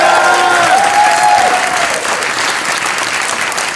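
Loud, sustained audience applause fills a hall during a college's state-of-the-college address, dense clapping that holds steady and eases slightly toward the end.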